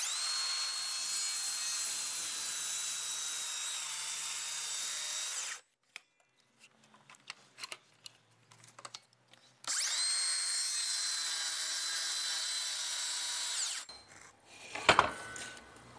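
A power saw cutting wood for a miter joint in a carpentry workshop, two long loud cutting runs separated by quieter handling noises and a final short burst.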